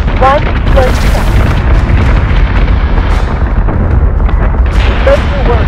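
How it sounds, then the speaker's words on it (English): Warship guns firing on a target in the Battlestar Galactica video game: loud continuous booming and rumbling blasts fill the whole stretch, with radio-style voices and beeping chirps heard over the barrage. "Firing on target."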